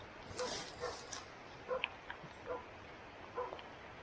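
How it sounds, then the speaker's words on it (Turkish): A dog barks and yips a few times at a distance during a wild boar hunt, short sharp calls spaced out over a faint outdoor background. "Oğlum köpek var şimdi. Köpek tam şurada."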